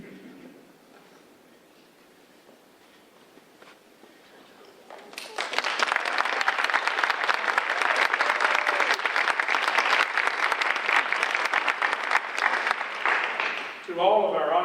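Audience applause for honored students at a school board meeting, starting at about five seconds and running loud and steady for roughly nine seconds after a quiet stretch, with a voice cutting in right at the end.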